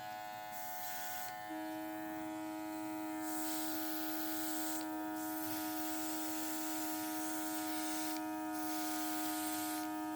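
A small airbrush compressor hums and whirs steadily throughout, a constant close mechanical drone with a faint hiss.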